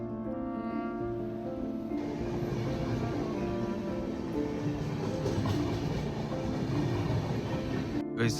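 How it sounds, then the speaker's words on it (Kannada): A passenger train stands at Jolarpettai railway station with a steady, close rumble and a hum that holds evenly from start to end, with no talk. "ಈಗ ನಮ್ಮ ಟ್ರೈನ್ ರೀಚ್ ಆಗಿದೆ ಜೋಲಾರ್ಪೇಟ್ಗೆ."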